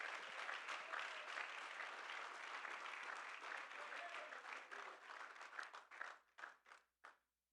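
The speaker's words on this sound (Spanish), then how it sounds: "Y dele un aplauso al Señor con todo su corazón" A church congregation breaks into sustained applause to the Lord during a worship service, a dense wash of clapping that holds steady for six seconds and then thins into a few last separate claps before stopping.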